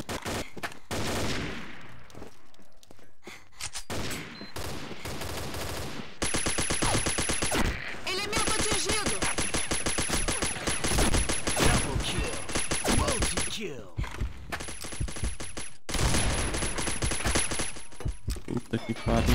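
Rapid automatic gunfire from the video game Combat Arms, including a Sorcerer RX weapon, rattles in long dense bursts with brief pauses, loud and close, while someone talks over it.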